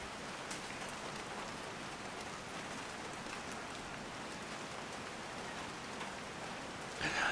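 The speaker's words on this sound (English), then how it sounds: "There's that rain." Steady, dense rainfall in the video game Call of the Sea, a continuous even hiss of drops pattering on surfaces that stays constant throughout, without voices.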